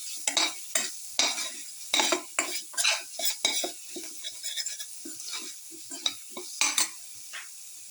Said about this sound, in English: Thoroughly saute it. Saute it thoroughly.